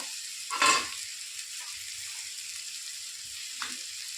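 Spices for masala rice hit hot oil in a pan, making a sharp sizzling burst followed by a softer, steady frying hiss and a second small flare near the end.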